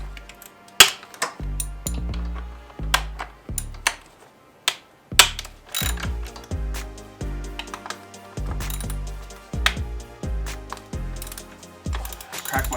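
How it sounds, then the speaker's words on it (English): A wrench works loose 12mm intake manifold bolts on a 2019 Subaru WRX FA20DIT engine, a close series of sharp metallic clicks, ratchet clatter and sudden cracks in an irregular rhythm, with no voices. "we've got 4 12mm bolts on each side. So go ahead and we'll start cracking all these loose."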